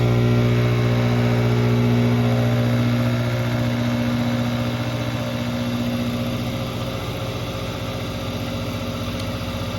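A Grizzly G704 mini mill cuts Delrin with a steady, loud mechanical drone and a constant buzzing chatter from vibration. The sound continues without a break and comes from close by, with no talking.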